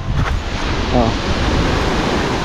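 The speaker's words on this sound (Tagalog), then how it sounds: "Ang lakas ng hampas ng alon" Strong ocean waves crashing on the shore at high tide, a loud, close, continuous wash of surf churning with wind noise throughout.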